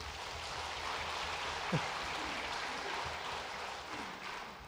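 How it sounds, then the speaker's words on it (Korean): A church congregation gives a soft, even round of applause at Sunday worship, a steady hiss of many hands that stays faint and distant throughout without tailing off. "박수 한번 합시다."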